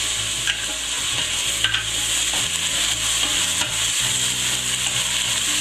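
Fresh chili sizzles loudly in a hot pan while cooking Sri Lankan frikkadels, a constant bright frying hiss broken by the scrape and clack of a utensil stirring.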